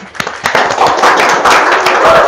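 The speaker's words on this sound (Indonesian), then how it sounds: "Tepuk tangan dong." A studio audience bursts into dense clapping that builds quickly and holds steady, loud and close, with a few scattered claps at the start.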